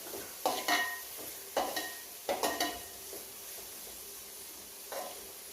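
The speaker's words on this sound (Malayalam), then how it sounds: "ഉള്ളി ഇട്ട് കൊടുത്തില്ലേ ഇത് നല്ലോണം ഒന്ന് മൂത്തിട്ട് വരട്ടെ" Onions frying in a pan while being stirred, with a soft background sizzle and a few separate bursts of clattering spoon-on-metal scrapes, quiet and close with long pauses between strokes.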